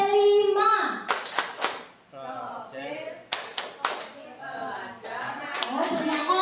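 A group of schoolchildren and teachers performs the tepuk P5 clapping chant, with bursts of sharp unison claps in a set rhythm alternating with loud chanted voices throughout.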